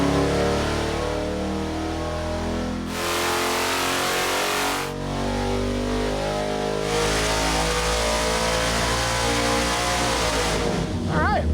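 A naturally aspirated 6.0L LS iron-block V8 on a dyno, revving hard from 3,500 to 7,000 RPM as a loud, sustained, rising roar that holds near the top, with brief dips and a final drop as the throttle closes.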